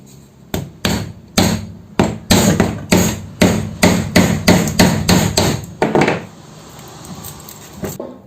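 Steel chisel struck repeatedly with a hammer to cut through the laminated core of a wet grinder motor during rewinding, giving about eighteen loud, sharp metallic blows in an uneven rhythm, close by with no talk.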